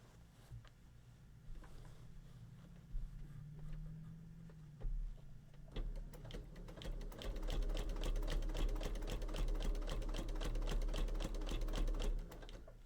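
A sewing machine quilting a quilt top runs softly at first, then settles into a steady, rapid stitching rhythm through the second half, close and fairly quiet.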